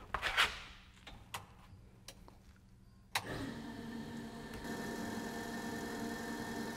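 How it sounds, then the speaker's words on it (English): A few faint clicks in a quiet room, then a high-output fuel pump switches on partway through and runs with a steady, moderately loud whining hum. "go ahead and turn the pump on and see how loud it is"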